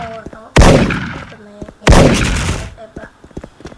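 Two loud gunshot blasts about a second apart in the SpecialForce shooter game, each with a sharp attack and a ringing decay, with faint clicks and game tones between them.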